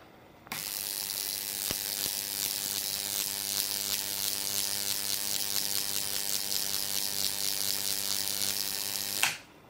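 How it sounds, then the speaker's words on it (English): Jacob's ladder sparks climbing between two wires in a garage, a loud buzzing, crackling electric arc that starts abruptly, holds steady with a rapid rasping texture for about nine seconds, then cuts off sharply. "What happens is the sparks are hot and they rise in the air until they eventually break"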